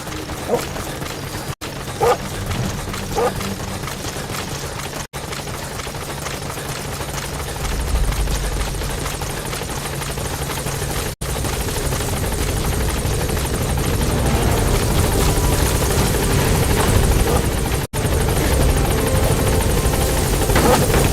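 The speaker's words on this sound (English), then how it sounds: "Support helicopter has arrived." A video game support helicopter's rotor thumps and engine roars steadily, growing louder and nearer over time, a continuous heavy drone.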